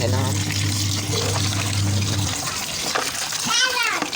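Water sloshes and splashes as freshwater snails are scooped from a cement irrigation canal, a steady wet wash with a low hum early on and a voice briefly heard near the end.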